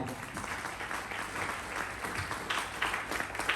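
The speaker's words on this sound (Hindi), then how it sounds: "दोस्तों, आपकी तालियां कम बजी" Faint, thin applause from a small crowd at an indoor health and wellness program, a low, continuous patter of clapping without voices.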